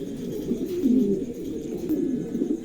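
Pigeons of the Roman breed coo in a steady, low, throaty murmur that rises and falls, heard close and continuous with no talk over it.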